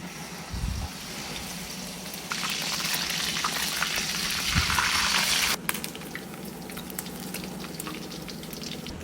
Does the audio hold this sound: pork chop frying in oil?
yes